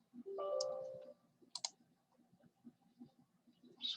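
A computer mouse gives a few faint, sharp clicks, a quick double click near the middle and another at the end, over a quiet background with a short tonal chime early on.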